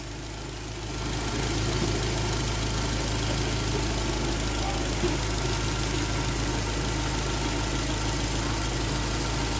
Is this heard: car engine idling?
yes